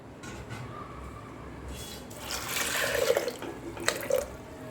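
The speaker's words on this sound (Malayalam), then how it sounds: "അതിനകത്ത് കുറച്ച് വെള്ളം ഒഴിച്ചു കൊടുക്കാം" Water poured into a pot of lentils, a steady trickling splash that swells midway with brief sharper splashes near the end, close and fairly quiet.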